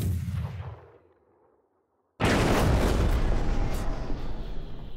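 Tank cannon fires in a loud explosive blast: a booming report fades into near silence, then a second sudden, heavy detonation bursts in and rumbles on loudly to the end.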